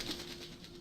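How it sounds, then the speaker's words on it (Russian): Birds flapping their wings in the video game Alan Wake, a brief flurry of fluttering close by over a steady ambient background. "Чёртовы птицы."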